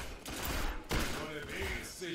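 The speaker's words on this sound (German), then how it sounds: "schießt mit der Shotgun und machst Nahkampf" Shotgun blasts and gunfire during close-range combat in the Destiny Iron Banner multiplayer mode, sharp bursts around the one-second mark amid continuous game noise, with a voice talking over parts of it.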